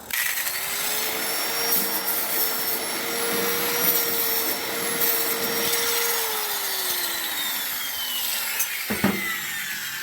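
A power grinder works rust off metal at close range, a loud steady whine that spins up, holds for several seconds, then winds down, with harsh scraping grit throughout and a sharp knock near the end.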